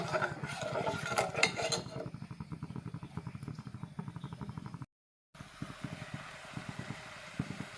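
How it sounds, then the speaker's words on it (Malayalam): Rhythmic scraping of a spoon stirring milk in a metal pot, steady repeated strokes with soft clinks, briefly cut to silence before the stirring resumes. "ഇനി ഇത് നമ്മൾ നല്ലപോലെ ഇളക്കി"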